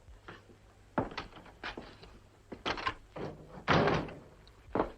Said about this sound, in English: Well, shut the door.